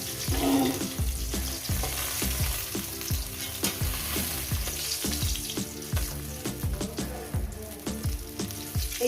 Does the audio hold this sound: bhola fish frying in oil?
yes